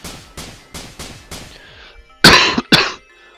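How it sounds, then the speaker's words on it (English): Several short coughs in quick succession from a person with a sore throat, followed by two louder, harsher coughs close to the microphone, with no talking. "I'm still coughing, and my throat is still a little bit sore."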